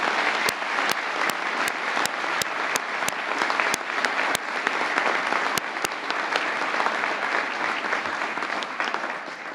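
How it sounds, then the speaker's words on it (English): Steady, full applause from a courtroom audience welcoming two newly invested judges, dense clapping holding at an even level with a few sharp nearby claps standing out, fading slightly at the end. "please give both Judge Steele and Judge Gould a round of applause and welcome them to the bench"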